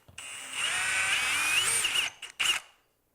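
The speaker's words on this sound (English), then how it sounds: "So let's go ahead and make that drill hole." A power drill bores through a plastic glue bottle, a steady high whine lasting close to two seconds, then a short pause and a brief second burst before it stops, close and clear with no talking.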